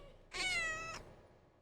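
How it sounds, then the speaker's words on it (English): A single clear cat meow, close and fairly quiet, rising and holding for about half a second before fading into a quiet room. "that's an alert cat"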